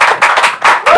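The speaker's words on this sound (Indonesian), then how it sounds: "tepuk tangan dong dulur Tani." A studio audience at a Ramadan edition of an Indonesian farming talk show claps in a short burst of a few quick, loud, closely spaced hand claps.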